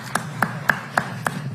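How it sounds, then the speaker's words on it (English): A few scattered hand claps at a press event announcing a DC statehood bill, about five separate sharp claps spaced evenly, sparse and fairly quiet. "All right, nice round of applause."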